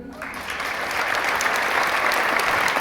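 A crowd at a state champions' welcome-home rally breaks into applause that quickly builds to steady, sustained clapping filling the room.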